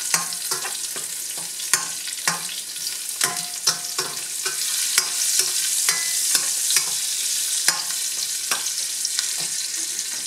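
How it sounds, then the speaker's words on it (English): Pasta ingredients with bacon, mushrooms, broccoli rabe and crushed red pepper flakes sautéing in a pot, a steady sizzle broken by frequent sharp scrapes and taps of a stirring utensil. "let's saute the ingredients."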